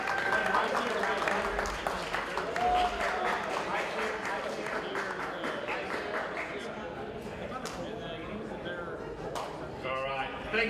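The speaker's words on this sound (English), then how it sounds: "one more round of applause for your state champion from Wabash High School" A crowd at an esports awards stream applauds a state champion with scattered, lively clapping, while voices and cheering rise over it at several points.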